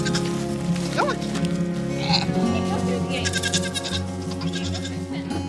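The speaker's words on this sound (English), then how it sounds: "Silly baby goats." A baby Nigerian Dwarf goat bleats in several wavering cries close by, over a steady low hum, with a person talking briefly in the middle.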